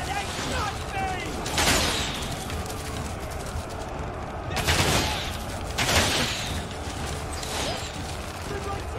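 Troops fire volleys of gunfire in Total War Saga: Thrones of Britannia, three loud crackling bursts standing out over a busy battle din.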